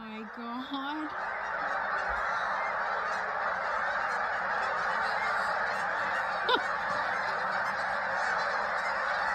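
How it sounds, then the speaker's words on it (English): Many geese honk together in a thick, sustained mass of calls, with a few nearer individual honks standing out from the distant flock. "Geese apocalypse incoming."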